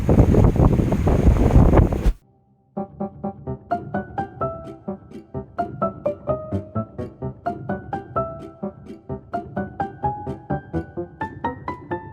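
Sea waves at Gadeokdo harbour roar loudly with heavy wind rush for about two seconds, then cut off abruptly and give way to a rhythmic melodic music track.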